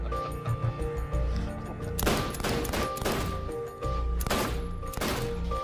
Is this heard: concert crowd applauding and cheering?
no